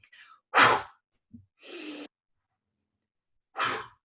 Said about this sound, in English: they do 2 recovery breaths that sound like this